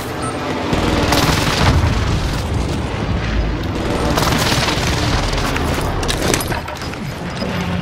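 An airstrike rumbles in Call of Duty Warzone Resurgence, a sustained roar of heavy booms and blasts rolling on for several seconds, loud and dense, with little speech.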